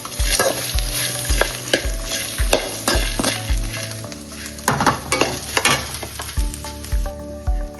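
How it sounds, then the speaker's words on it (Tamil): Chicken gravy with coconut and cashews sizzles while being sautéed in a pan, the frying hiss running continuously under repeated close scraping stirs of a spatula. "இதையும் சேர்த்து நல்லா வதக்கணும்"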